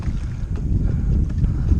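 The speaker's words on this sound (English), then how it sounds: "It's windy as hell." Strong wind buffets the microphone during kayak fishing on Mosquito Lagoon, producing a loud, continuous low rumble with gusty swells and no speech.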